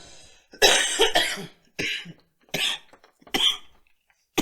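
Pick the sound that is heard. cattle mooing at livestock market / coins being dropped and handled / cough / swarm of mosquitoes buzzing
cough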